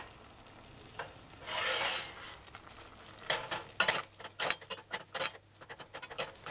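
Cabbage, broccoli and coconut milk stew stirred in a pot on the stove, a soft rub followed by a run of rhythmic scraping strokes, close and fairly quiet with no talking.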